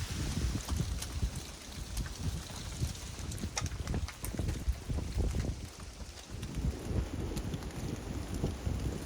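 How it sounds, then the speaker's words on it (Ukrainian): Strong wind buffets the microphone on a shore while fishing with a spinning rod, a constant low roar gusting throughout with a faint high whine near the end. "а тепер ще й дуже сильний вітер розпочався"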